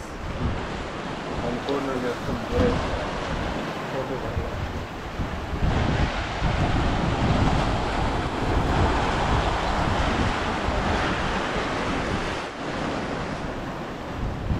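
Ocean waves break and wash ashore at Querim Beach in North Goa, a continuous roaring surf mixed with heavy wind buffeting the microphone, loud and steady for the whole stretch, with no clear talk.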